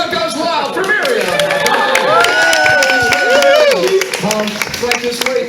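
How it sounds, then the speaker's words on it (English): A theme-park horror makeup show audience at Universal Orlando cheers and claps for a volunteer, a busy mix of claps and shouts with voices speaking over it throughout. "the crowd goes wild for Miriam"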